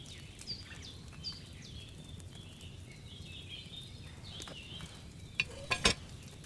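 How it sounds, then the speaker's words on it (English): A cauldron of wine boils over a flame in Kingdom Come: Deliverance II, giving a steady low bubbling and simmering bed, with faint chirps over it and a few sharper clinks near the end. "Hear that bubbling? It's boiling."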